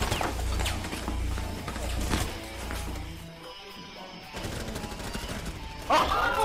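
Gunfire in the Rainbow Six Siege game: rapid bursts of shots crackle through the first few seconds, drop away briefly, then pick up again with more scattered firing toward the end.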